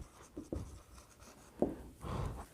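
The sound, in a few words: writing on a board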